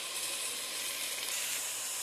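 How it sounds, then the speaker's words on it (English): Chopped cauliflower sizzling in a hot pot for soup, a steady soft frying hiss that carries on alone without any talk. "So I just added my chopped up cauliflower in there. Just going to let that cook for about 3 minutes, stirring it constantly."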